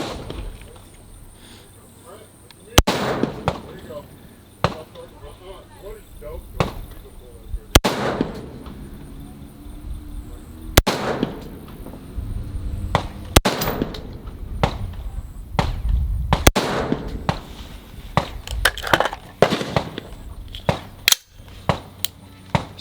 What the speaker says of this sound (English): we've got the 77 grain loaded up. This is unsuppressed.